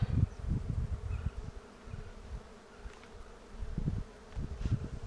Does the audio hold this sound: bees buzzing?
yes